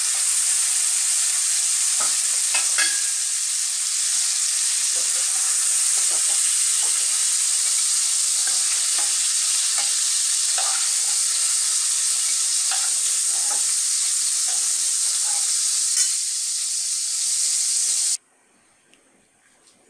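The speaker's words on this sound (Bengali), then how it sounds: "চিংড়ি মাছ ভাজা হয়ে গেছে, এখন আমি চিংড়ি মাছগুলো একটি পাত্রে তুলে নেব।" Prawns fry in a pan for a Bengali fig-and-prawn curry, giving a steady loud sizzle with scattered crackles and stirring clicks throughout, then cutting off abruptly near the end.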